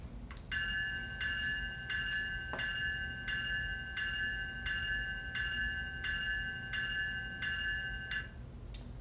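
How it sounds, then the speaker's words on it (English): A Graham White electronic bell on a model locomotive rings steadily in an even rhythm, about a dozen bright metallic strikes, fairly quiet over a low background hum. "F1 is the bell. This is a Graham White e-bell."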